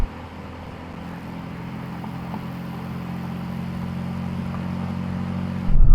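A Mercedes-AMG C63 S accelerates in a drag race with a steady engine drone that builds gradually, then rises to a sudden louder burst at the very end.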